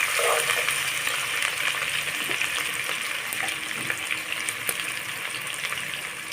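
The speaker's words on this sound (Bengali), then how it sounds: "কাঁচা লঙ্কা পেঁয়াজ কুচি দিয়ে আমি একটু সময় নিয়ে লাল করে ভেজে নেব" Green chilli and chopped onion sizzling steadily in hot oil in a pan, a constant bright crackling hiss throughout with no speech.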